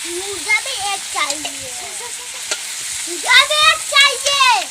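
Chicken pieces frying in a pan for a village-style desi chicken recipe, giving a steady broadband sizzle throughout while voices talk over it.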